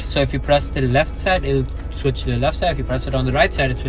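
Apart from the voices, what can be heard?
No distinct noise like a dog, phone or traffic.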